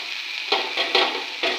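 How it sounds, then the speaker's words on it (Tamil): Ginger and garlic sauté in a pan with coriander and mint for an egg kurma, a bright close sizzle pulsing with several quick stirring strokes, no voices. "இஞ்சி பூண்டு போட்டாச்சு நல்லா வதங்கிருக்கு இப்போ மல்லித்தலை புதினா கொஞ்சம்"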